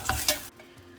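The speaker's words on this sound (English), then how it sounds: "Stir it a little." Tomato rasam mixture with salt and turmeric being stirred in a pot, two short scraping strokes up close, then a quiet simmer.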